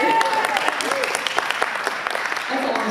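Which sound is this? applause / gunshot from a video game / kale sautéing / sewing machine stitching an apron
applause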